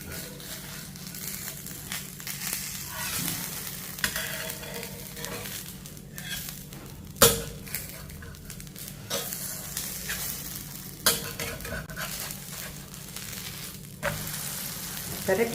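Food fries in sesame oil in a pan and is flipped over: a loud, continuous sizzle up close, with scraping stirs and several sharp clanks and spatters as pieces are turned.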